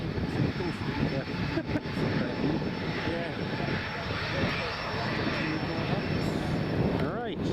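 Diamond DA62 light twin-engine aircraft passing by at Newcastle Airport in crosswind conditions, a steady droning engine roar with a shifting, sweeping pitch, heard from a distance alongside voices talking.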